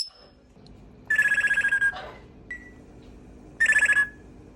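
A Cape parrot in an outdoor aviary imitates a ringing telephone, giving two trilling bursts of rapid ring pulses with a short whistle between them, close and clear.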